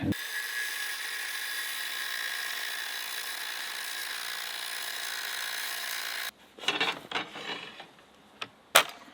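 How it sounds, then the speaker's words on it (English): Angle grinder working a metal part on a shipping container, a steady loud grinding whine for about six seconds that cuts off, followed by a few scattered clanks and scrapes. "we're gonna hit it now with the angle grinder"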